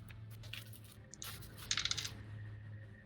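Dice clatter onto a table during a tabletop role-playing game as extra damage dice for a smite are rolled: a brief, quiet rattle of small clicks lasting under a second, over a steady low hum with no talking.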